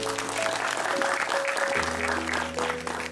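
Audience applause at a film promotion event in Chandigarh, a dense steady roar of many hands clapping that fills the whole stretch, with a held musical tone running underneath.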